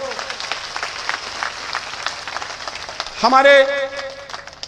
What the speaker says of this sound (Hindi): जोरदार तालियां अपने अतिथियों को।